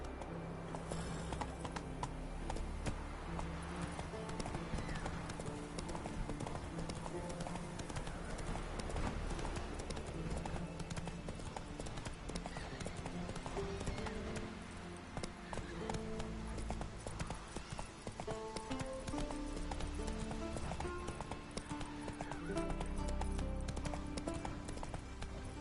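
Roach the horse gallops in The Witcher 3, a continuous rapid clip-clop of hooves over game music and ambience, steady and fairly close throughout.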